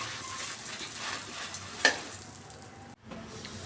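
Byadgi chillies dry roasting in a pan with a little oil, stirred over low heat: a steady soft hiss with one sharp tick midway, then a brief drop to near silence before the sizzle resumes.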